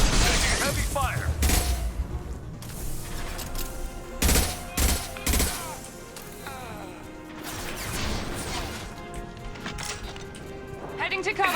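Heavy gunfire in the video game Mass Effect 2: dense bursts of rapid shots and sharp impacts crackle throughout, loud and close, with occasional voices calling out over the battle.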